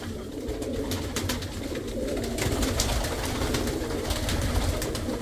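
Pigeons coo repeatedly inside a dovecote, soft throaty calls overlapping against a steady background of wing flutters and shuffling, close and fairly loud with no voices.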